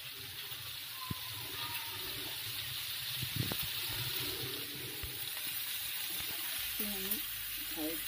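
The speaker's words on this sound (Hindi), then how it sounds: "तो हम इसको मीडियम फ्लेम पर दोनों साइडों से 10-10 मिनट के लिए कुक कर लेंगे।" Fish frying in a pan over a medium flame, a steady soft sizzle with a few small pops and clinks from a utensil, heard close and fairly quietly with no talking.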